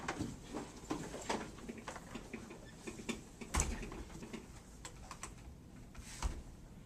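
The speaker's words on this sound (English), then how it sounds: "I'm pretty good typing with my right hand." Quick, uneven clicking of computer keys typed with one hand, light taps in short bursts at close range, with no one talking.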